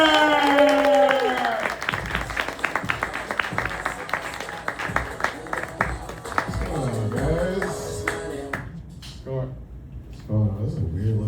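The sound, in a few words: audience clapping at comedy show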